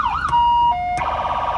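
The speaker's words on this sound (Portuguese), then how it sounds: "Tem o botão independente de sirene, ela tem 4 a 5 tons de sirene." A loud electronic police car siren cycles through brief tones, a wavering wail, a steady pitch, then a rapid warbling yelp, with short clicks between switches.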